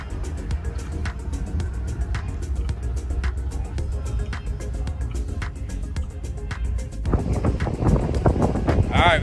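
Gusty wind buffets the microphone beside a lake, a steady low rumble throughout that grows rougher and louder near the end, with faint mechanical noise underneath.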